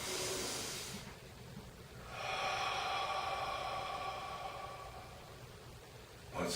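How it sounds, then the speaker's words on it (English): A slow cleansing breath during a qigong lesson, a broad airy rush of air drawn or let out that swells for several seconds, with a short burst of breath at the start and another at the end. "now we want to take a cleansing breath together"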